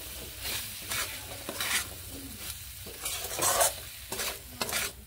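Cauliflower fries with salt in a pan, a steady close sizzle broken by repeated scraping strokes of stirring at an uneven rhythm, with no voices.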